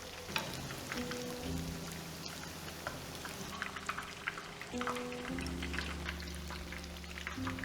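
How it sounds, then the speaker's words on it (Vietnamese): Steady hiss and crackle of tofu frying in hot oil, continuous and fairly soft, with low kitchen hum beneath. "Chiên đến khi thấy đậu hũ vàng giòn như thế này"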